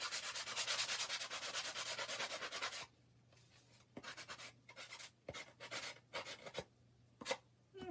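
Rhythmic sanding strokes rub across a chalk-painted wooden sign to distress it, loud and close for about three seconds, then shorter, scattered scrubbing bursts follow with gaps between.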